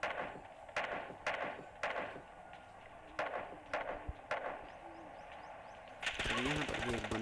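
Shotgun blasts in the mobile battle-royale game PUBG Mobile Lite during a solo-versus-duo match: a series of sharp, loud shots spaced irregularly, ending in a denser flurry of crackling gunfire and effects.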